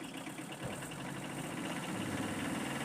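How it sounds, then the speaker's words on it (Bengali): A 2022 Tata EX2 engine idling with a steady, even rumble and faint vibration, close and continuous throughout with no voices. "এই যে দেখেন দর্শক, ইঞ্জিনের সাউন্ডটা কতটা সুন্দর রয়েছে,"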